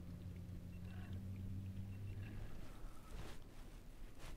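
A Haswing Cayman B electric trolling motor with 55 pounds of thrust pushes a boat upstream on a river, giving a steady low hum and rumble with water wash and some wind buffeting on the microphone.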